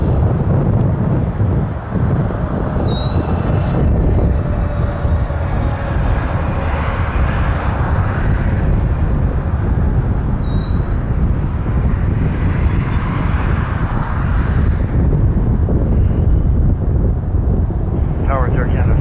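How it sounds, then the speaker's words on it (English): Strong wind buffeting a microphone at Toronto Pearson airport, a loud continuous rumbling roar with gusts, and faint aircraft engine whine in the background. "Bit of a wind."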